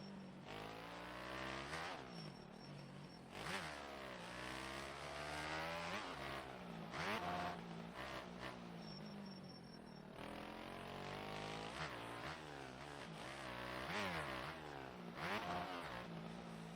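Motorcycle engine in the video game MX Bikes, revving up and down in repeated rising and falling sweeps, loud and continuous throughout with no talking.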